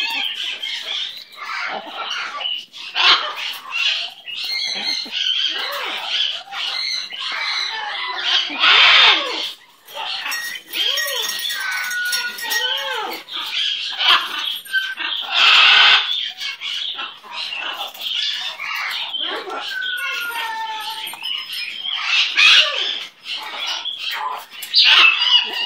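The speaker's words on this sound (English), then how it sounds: "Who's that cutie bird?" A pet bird squawks and chirps in short, scattered bursts throughout, fairly close and sharp, with a few louder calls standing out.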